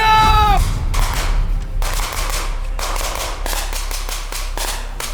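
Supporting gunfire during a military field training exercise: loud bursts of rapid automatic shots in several rattling volleys separated by short gaps, with a faint shouted voice at the start.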